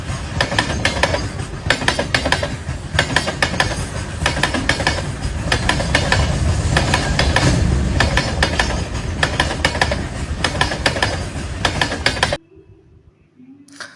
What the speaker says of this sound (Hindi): दोस्तों एक बार आप इस आवाज़ को सुनिए कि किस तरीके से भारतीय रेलवे में ये आवाज़ उत्पन्न होती है फिश प्लेटों के द्वारा।